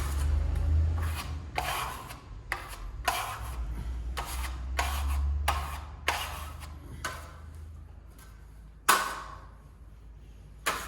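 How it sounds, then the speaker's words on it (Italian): Steel spatula troweling red Venetian lime plaster on a wall: a series of close, rhythmic rasping scrapes, each stroke sharp and distinct, repeating about once a second with brief pauses between. "Adesso lo spatoliamo 2 volte, dopodiché andiamo a lucidare."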